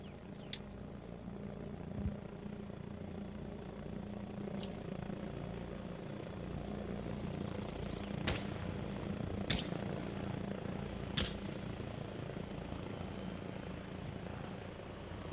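Helicopter in the video game ARMA Reforger, a faint, distant rotor thrum droning steadily in the background, with a few sharp clicks and ticks breaking in now and then.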